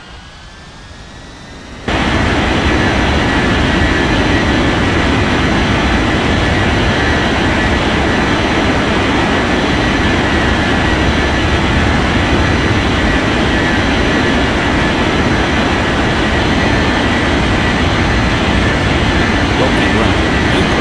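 A video game airliner cleared for takeoff on runway 36 at a Rocky Mountains regional airport, a loud broadband roar of engines spooling up that jumps in suddenly and holds steady and dense throughout.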